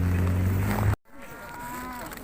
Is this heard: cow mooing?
yes